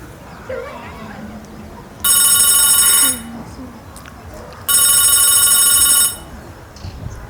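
A telephone rings in two long electronic bursts separated by a short pause, loud and close, with faint background voices and room noise.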